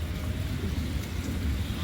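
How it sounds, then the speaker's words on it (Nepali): A river flowing in the rain beside a jungle camp in Chitwan, heard as a steady, low broadband rush with no breaks, close and fairly loud, mixed with some wind-like noise. "खोला पनि बगिरहेछ"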